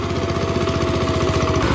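A tractor engine runs steadily in a field, loud and close, with a continuous throbbing low-pitched chug and no speech over it.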